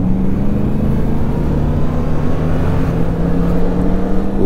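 A Yamaha MT-07 motorcycle engine on a test ride drones steadily and loudly, its pitch rising gradually over a few seconds, with wind rush and no talking.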